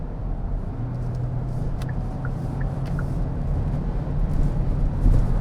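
Cabin of a 2022 Hyundai Tucson Hybrid speeding up on the road, with a steady low engine and road hum that swells a little near the end. No voices are heard.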